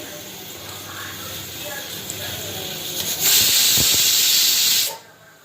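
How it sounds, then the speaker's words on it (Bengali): A pressure cooker cooking tomato chutney lets off its whistle, rising into a loud, close rush of hissing steam that holds for about two seconds, then cuts off sharply. "একটা সিটি পড়লো আর একটা দিয়ে দিন"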